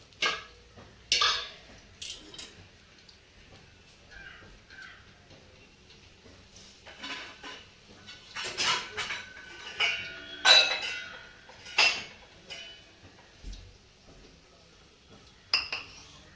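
Scattered metallic clinks and scrapes of utensils against a metal pan as appe dumplings are lifted into a metal vessel, irregular and close, with quiet gaps between them.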